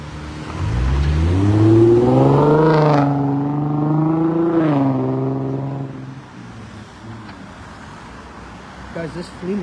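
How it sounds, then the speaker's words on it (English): Road traffic outdoors as a car passes near, its engine rising in pitch as it accelerates, holding loudly, then fading into a dull roadway rumble. "There's so much traffic out right now."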